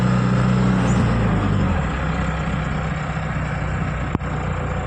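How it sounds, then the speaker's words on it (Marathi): A vehicle arrives on a new, empty road: a close, steady low engine rumble that holds for the whole stretch, with one brief sharp click near the end. "मगापासून एक गाडी आली बघा बघा"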